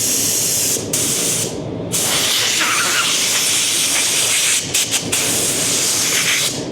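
Spray gun laying coats of paint onto Lamborghini Revuelto panels: steady close hiss in several bursts, with short pauses between passes.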